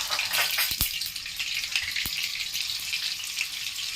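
Oil and butter sizzle steadily in a pan, heating as the base for a white sauce for homemade pizza, with a constant bright frying hiss and a few soft clinks of utensil on metal.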